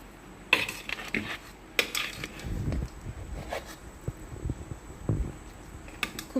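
Cooked biryani rice being turned over in a pot with a utensil, giving scattered scraping and clinking knocks at irregular moments, close and moderately loud.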